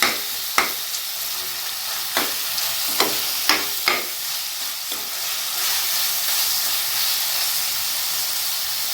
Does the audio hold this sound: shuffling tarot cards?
no